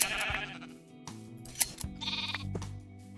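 Sheep bleat in the Minecraft modpack Gregicality Skyblock, several short game bleats spread across the moment over faint background tones.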